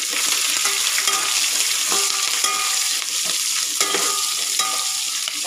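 Onions go into hot oil with green chillies for a home-cooked Sunday biryani, and a loud, steady sizzle fills the pan with intermittent stirring scrapes.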